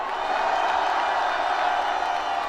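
A large outdoor political rally crowd in Yeouido roars in a continuous wash of shouting and cheering, steady and loud with no distinct claps or pauses.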